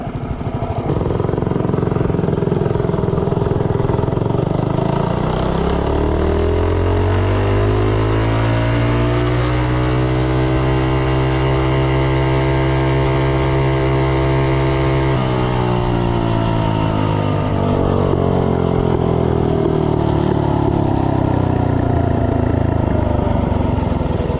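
A go-kart powered by a Predator 212 engine with a 12 tooth clutch and 6.25 ratio makes a top speed run, its loud engine climbing steadily in pitch, holding a high drone, then falling away as it passes and slows, with no talk.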